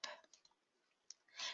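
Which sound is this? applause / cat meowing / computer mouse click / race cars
computer mouse click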